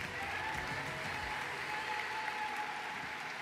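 Continuous applause for graduates at a university commencement ceremony, a steady, dense wash of clapping from a large crowd, sustained evenly throughout with no talk over it.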